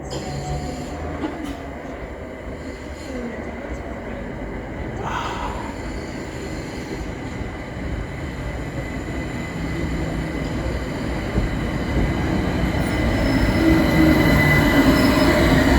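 A train rumbles steadily into Queens Road (Peckham) station in London, with brief metallic wheel squeals and clanks, the low rolling noise swelling louder toward the end.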